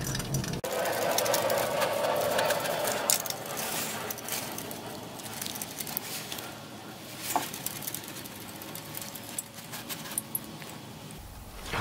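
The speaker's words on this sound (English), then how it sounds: "now I'm only using a small size ratchet here" A small ratchet removing spark plugs from a Nissan Serena engine, a busy close clicking and whirring with rapid pawl ticks and metallic rattles, fairly loud and continuous throughout.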